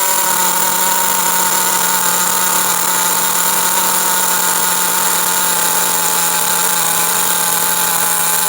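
An HPI RS4 3 Evo RC car's SH-18 nitro engine idles during break-in, giving a continuous high-pitched buzzing whine that holds steady and loud throughout.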